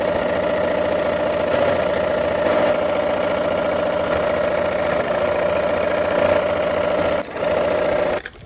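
A sewing machine stitches fabric for a quilt in a steady, loud, close mechanical whir, running continuously and then stopping briefly near the end, with no talk.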